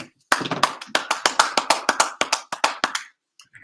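Close, crisp hand claps in a fairly even rhythm, around seventeen sharp strikes over under three seconds, then a brief pause and a couple of faint trailing taps.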